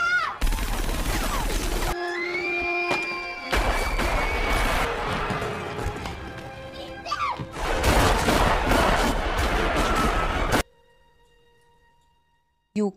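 Gunfire in a thriller film scene as people in a room shoot one another, loud bursts of shots and crashes broken by short gaps and tonal sound, then a sudden drop to near silence.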